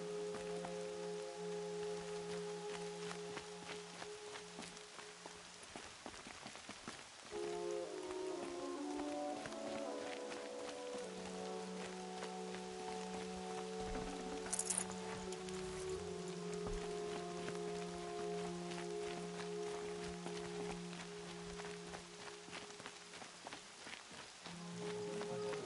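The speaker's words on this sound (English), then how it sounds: "Rain's not so bad." Rain falling in a PS4 video game, a steady soft hiss of drops under low, sustained background music tones, continuous and fairly quiet throughout.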